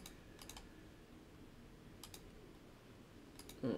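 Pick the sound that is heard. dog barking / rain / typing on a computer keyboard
typing on a computer keyboard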